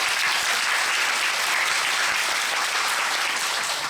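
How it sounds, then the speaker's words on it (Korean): A theatre audience applauds steadily at a musical's stage greeting, a dense, loud wash of clapping that holds evenly throughout with no speech over it. "박수 한 번만 부탁드립니다."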